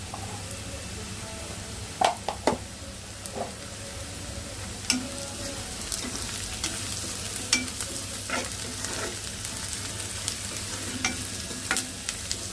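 Turmeric and garlic fry in hot oil in a pan for a taro curry, giving a steady close sizzle with a few sharp spoon taps and scrapes as it is stirred.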